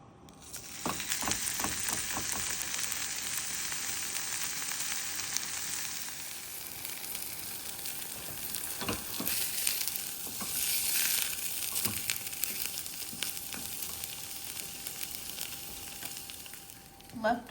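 Seasoned food fries in a pan, giving a close, continuous sizzle dotted with sharp crackles and pops that rise and fall throughout.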